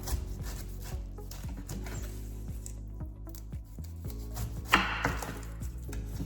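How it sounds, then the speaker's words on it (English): A knife chopping the ends off fruit or vegetables on a cutting board for a homemade fruit punch juice, a series of sharp, close knocks spaced about a second apart under a quiet background. "what I like to do is I like to just cut both ends off"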